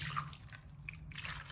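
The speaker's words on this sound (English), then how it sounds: "I've got a can of beef broth here. I'm gonna take the lid off. Just pour it all over those potatoes and the ranch." Canned beef broth is poured from the tin over potatoes and ranch seasoning in a slow cooker, a soft, continuous splashing and trickling of liquid heard close up with no talk.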